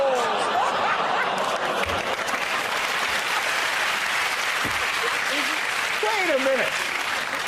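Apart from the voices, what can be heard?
studio audience applause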